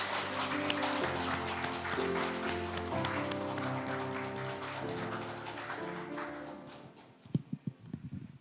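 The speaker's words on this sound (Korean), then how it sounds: "자, 박수로 환영해 주시기 바랍니다." An audience at a Korean book concert held at the National Assembly claps under sustained background music, a dense steady patter that fades out near the end before a few louder isolated sounds.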